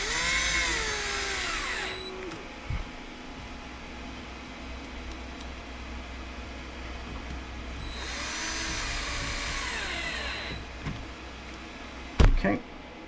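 A power screwdriver drives screws into an Arrma Limitless V2 RC car, whirring in two separate bursts that slow as each screw seats, with quiet handling between them and a short clatter near the end.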